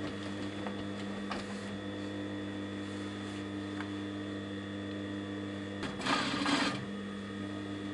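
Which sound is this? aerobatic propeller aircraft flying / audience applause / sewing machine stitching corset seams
sewing machine stitching corset seams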